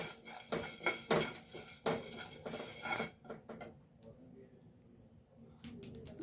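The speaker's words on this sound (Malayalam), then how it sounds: "ഇനി ഇതൊന്ന് ഇളക്കി കൊടുക്കട്ടെ. നല്ലോണം ഇതൊന്ന് വറുത്തെടുക്കട്ടോ." Metal utensil scraping and clinking against a pan while dry-roasting spices, in several quick strokes, then quieter with a faint high insect-like whine in the background.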